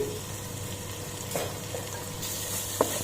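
Spices for fish biryani sizzle steadily in a hot pan, with a few scraping stirs and clinks of a spoon against the metal over the constant frying hiss.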